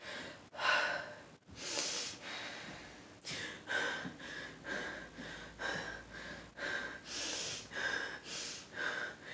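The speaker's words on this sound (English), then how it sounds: "All you heard was deep breathing." Heavy, deep breathing from characters in a crime-drama TV scene, a run of loud rhythmic inhales and exhales with snorting gasps, repeating steadily and close with no talk.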